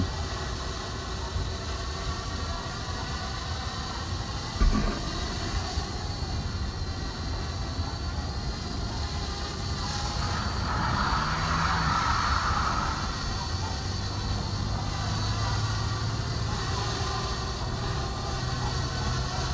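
A Parrot Bebop 2 drone hovering outdoors in a light breeze, a steady whirring rotor drone heard from a short distance that swells slightly midway, with no talking.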